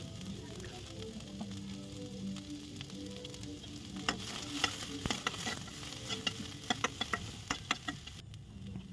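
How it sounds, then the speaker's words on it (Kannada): Onion frying in a pan for masala oats sizzles steadily while a spoon stirs it, adding sharp scraping clicks that grow more frequent toward the end. "ಅದರ ನೆಕ್ಸ್ಟ್ ಈರುಳ್ಳಿ ಹಾಕಿ ಫ್ರೈ ಮಾಡ್ಕೋಬೇಕು"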